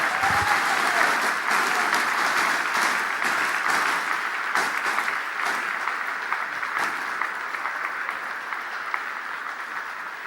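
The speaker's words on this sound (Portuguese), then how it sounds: "Vamos aplaudir o Senhor." Sustained, loud applause fills a church hall at a pastors' gathering. Many hands clap densely and evenly throughout, tapering only a little near the end, with no speech on top.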